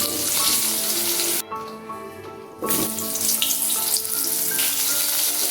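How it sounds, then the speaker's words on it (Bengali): Long-cut potatoes, salted and turmeric-dusted, sizzle steadily in a pan while being fried until reddish, with soft background music and a brief dip in the frying noise partway through. "আলুটা লাল করে ভেজে তুলে রাখছি"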